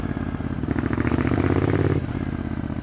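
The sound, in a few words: motorcycle exhaust heard through LIDL helmet while riding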